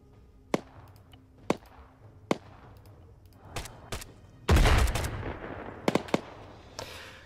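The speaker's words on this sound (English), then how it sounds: "Let's fire some shots." Gunshots in the military shooter game Arma 3: sharp single reports ring out spaced around a second apart, followed by a louder, denser burst of rapid fire and a few trailing shots, with no talking.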